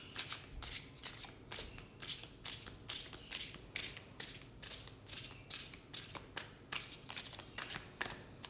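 A tarot card deck is shuffled in a quick, regular series of soft riffling bursts, roughly twice a second, quiet and close with no talking.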